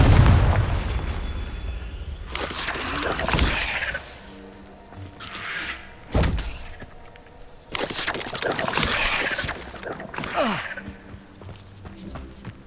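Confringo spell blasts in Hogwarts Legacy, several booming bursts with crackling tails spread across the stretch at moderate loudness, separated by quieter gaps.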